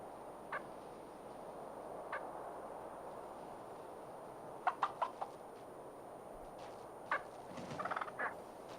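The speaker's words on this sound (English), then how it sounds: "A flock of Merriam's wild turkeys forages on acorns and seeds" Faint, scattered calls from a flock of Merriam's wild turkeys foraging on acorns and seeds over a quiet outdoor hiss, with a few brief clucks and gobbling notes at uneven intervals.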